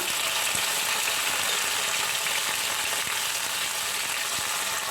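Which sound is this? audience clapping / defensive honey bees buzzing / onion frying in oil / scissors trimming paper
onion frying in oil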